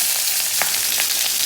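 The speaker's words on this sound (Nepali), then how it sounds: "प्याजलाई यसरी मजाले फ्राई गर्यो" Onions fry in a pan, a short, steady sizzle with a couple of faint stirring scrapes and no talk.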